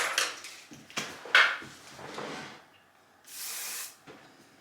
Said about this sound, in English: And now you're gonna hairspray it.